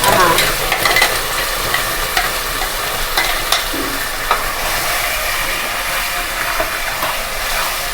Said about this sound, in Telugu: ఇప్పుడు మామిడికాయ గుజ్జు ఉడికించుకుందాం.